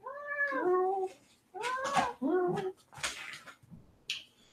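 A house cat meows twice in clear, drawn-out calls close by, followed by a few shorter sounds in a quiet room.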